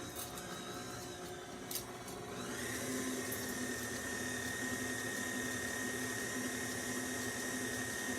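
An electric mixer beats orange olive oil rum cake batter, a steady whirring motor that kicks up to a higher, louder pitch after a couple of seconds and holds it continuously.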